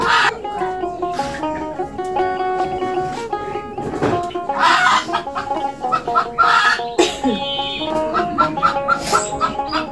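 Village chickens cluck and squawk in repeated bursts close by, with a rooster-like call and some background voices mixing in around a rural kitchen.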